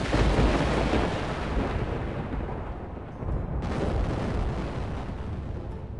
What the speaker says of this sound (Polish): I te grzmoty, no ten tego, to nie wróży nic dobrego.